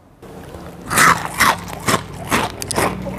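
Crunchy bites into a crispy fried sweet corn fritter, several loud, close crackling crunches in quick, uneven succession with no talking.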